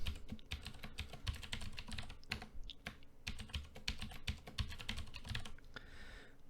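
Someone types a password on a computer keyboard, quiet close keystrokes clicking in quick irregular bursts with brief pauses, with no voices.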